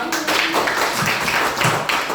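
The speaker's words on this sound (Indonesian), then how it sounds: "Oke, beri tepuk tangan untuk kita semua" Schoolchildren in a classroom clapping their hands together, a dense, loud, steady patter of many small hands with no talk over it.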